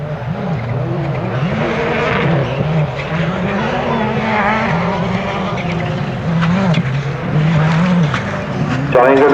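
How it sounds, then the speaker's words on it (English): A Ford Focus rally car runs a stage at Rally Rushmoor 2005, its engine droning and revving up and down close by under steady commentary talk, with brief gravelly skids near the end. "John Ingram, the Jeff Jones Motorsport, Ford Focus, a well-running car."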